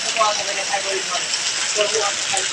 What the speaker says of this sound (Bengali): বৃষ্টি আর বৃষ্টি চারোদিকে বৃষ্টি ভরপুর বৃষ্টি